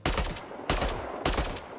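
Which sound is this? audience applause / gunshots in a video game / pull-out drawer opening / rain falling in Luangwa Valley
gunshots in a video game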